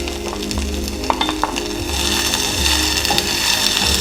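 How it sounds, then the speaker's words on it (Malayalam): Drumstick leaves being stirred into an egg thoran stir-fry in a pan, with a steady close sizzle and frying hiss under repeated scraping and stirring strokes of a spoon against the pan, no voices. "അങ്ങനെ ഇളക്കി യോജിപ്പിക്കാം നല്ലോണം"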